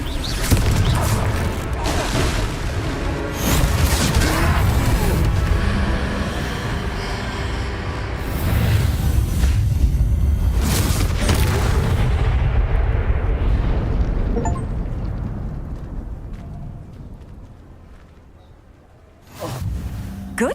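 Blasting spell explosions in Hogwarts Legacy during a troll fight: loud, sustained booming blasts and whooshes layered with game effects, with brief talk, tailing off quieter near the end before a final burst.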